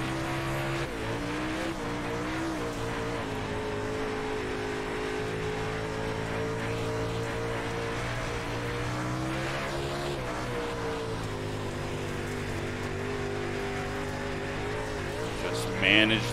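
A dirt late model race car engine in iRacing at Volusia Speedway Park drones loudly and steadily, pitch rising and falling with the throttle, with tire noise beneath and a voice talking over it.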